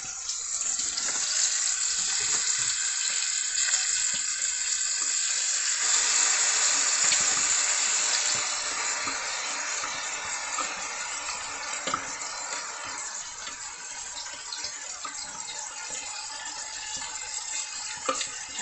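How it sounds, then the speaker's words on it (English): Finely chopped vegetables are scraped into a pan of ground meat frying for keto chili, giving a steady loud sizzle with scraping and stirring that eases slightly midway, up close. "So you just want to put this in with your meat, even as your meat is still going"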